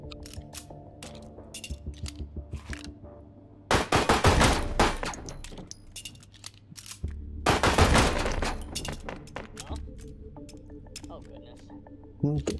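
Bayard 1908 pistol shots in the VR game H3VR, two bursts of sharp, loud reports set against quieter mechanical clicks and handling noises, with a person talking between them.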